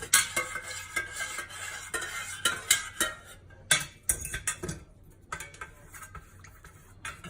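A thermometer stirred through melted candle wax in a container gives light clinks and scraping taps at an uneven pace, close by and fairly soft, with quieter gaps between strokes.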